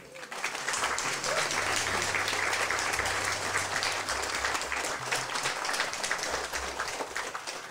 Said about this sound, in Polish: brawa dla naszej wspólnoty